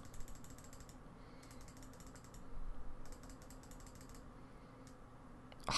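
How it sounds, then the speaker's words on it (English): Soft, quick mouse clicks tap in short irregular runs at a desk during play of the city-building game Banished, faint and close against a low steady hum, with no talking. "Sorry if you can hear my mouse clicking."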